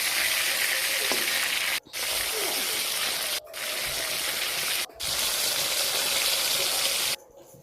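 Hilsa fish frying in hot oil, a loud, continuous sizzle heard up close, broken by three brief gaps and cut off near the end.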